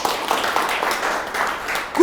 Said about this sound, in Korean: 박수 한번 더 치고 하겠습니다.